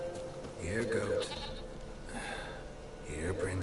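Goat in The Witcher 3 bleating twice, close and wavering, with someone speaking briefly between the calls.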